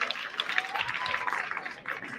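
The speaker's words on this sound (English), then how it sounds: "A big hand, ladies and gentlemen." Audience applause at a school's 60th anniversary celebration, bright scattered clapping from a crowd filling the moment at moderate volume, slightly thinning toward the end.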